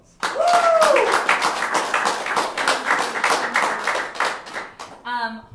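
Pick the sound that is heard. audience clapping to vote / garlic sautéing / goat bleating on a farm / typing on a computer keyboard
audience clapping to vote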